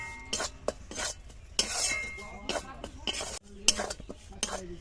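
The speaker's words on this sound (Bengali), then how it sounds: "শুকনো কড়ায় আগে সুজি আর ময়দাটা হালকা একটু ভেজে নেব" Semolina and flour dry-roast in a hot wok, stirred with a metal spoon: repeated close scrapes and clinks against the pan over a faint background.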